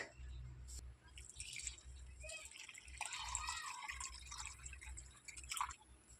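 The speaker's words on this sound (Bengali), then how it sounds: "এখন আমি এর মধ্যে মেশাবো লিকুইড মিল্ক" Liquid milk pours into a blender for chocolate Oreo cold coffee, giving soft dripping, splashing and gurgling close up over a low background hum, fairly faint and without speech.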